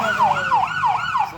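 Ambulance siren wailing in repeated rising-and-falling sweeps at the 35th Annual Waupun truck show, loud and steady with a low engine rumble beneath.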